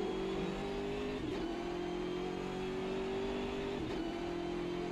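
BMW GT3 race car engine in the Automobilista 2 racing sim, a steady loud droning roar that holds pitch with slight dips and rises as it revs through the run, no talking.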